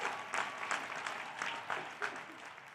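Audience applause fills a university commencement ceremony for science, nursing and speech pathology graduates, a steady wash of many hands clapping at moderate distance with small swells throughout.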